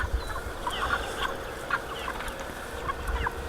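A guard goose gives repeated short, harsh honking calls at a moderate distance over steady outdoor background noise, with no voices.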